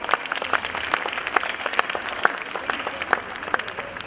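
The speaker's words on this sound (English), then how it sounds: "Let us now put our hands together and give them a huge round of applause." A school annual day audience gives a round of applause, dense steady clapping from many hands filling the hall without pause for the full stretch, with no talking over it.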